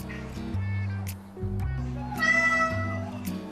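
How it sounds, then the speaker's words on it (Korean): A cat sits in a bathroom sink and meows repeatedly for the water to be turned on, with several drawn-out, rising cries close by while background voices or noise continue. "세면대에 안에 앉아 물을 틀어달라고 우는 밀키."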